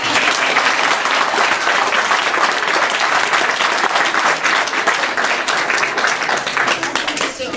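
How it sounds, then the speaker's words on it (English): A second round of audience applause at a children's talk, thick continuous crowd clapping that stays loud and close throughout before easing off at the end. "Do you want another clap?"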